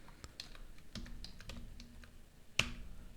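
Quiet, close computer keyboard typing while writing code: irregular light key taps over a few seconds, ending in one sharper, louder keystroke, with no talking.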